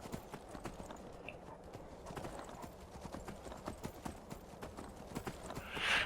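A horse in the Skyrim video game galloping through snow, steady rapid hoof clops throughout, close and even, ending with a brief breathy snort.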